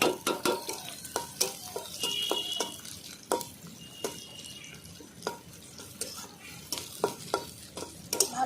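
Crushed garlic, chopped onion and chili fry in a hot pan, with steady sizzling broken by repeated sharp scrapes and clacks of a spatula stirring, fairly close and loud, with no talking.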